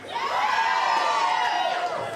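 A burlesque show audience at a St. Louis revue cheers, whoops and screams loudly and steadily in a dense, sustained crowd roar with children-like shrieks riding on top.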